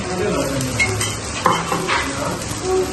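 Layered lacha paratha cooking on a pan over a low flame with a little oil added at the side: a steady, close, soft sizzle with light scraping and clinks of a utensil against the pan.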